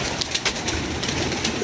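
Pigeons coo in a loft crowded with birds, a short run of close, soft throaty calls over a low background rustle.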